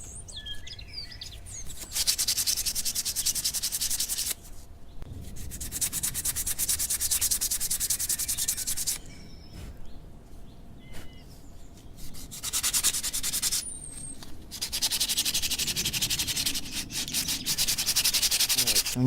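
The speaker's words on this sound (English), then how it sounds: "When you're sanding" Sandpaper rubs steadily over a lilac wood spoon in long, continuous scratchy strokes with brief pauses between passes, close and moderately loud, with faint birdsong in the background.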